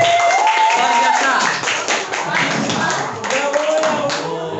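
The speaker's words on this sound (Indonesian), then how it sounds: "Nah, tepuk tangan." Audience clapping hands at an anti-corruption education outreach event, a dense, steady patter of many hands close by with voices audible over it throughout.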